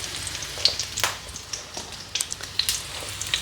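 Salmon patties frying in a pan make a close, steady sizzle broken by frequent sharp crackles and spitting pops of hot oil, with no talking.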